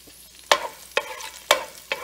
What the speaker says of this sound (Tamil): இப்போ நம்ம கருவேப்பிலை கொஞ்சம் போட்டுக்கலாம்.